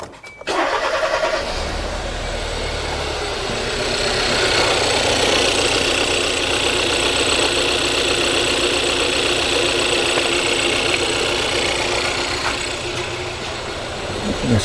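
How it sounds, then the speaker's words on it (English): A Kia Soul with low power and a fault that makes it die at stops cranks and fires, then settles into a steady, loud idle close by with a slight knock, running on without talk. "Let's start the engine again."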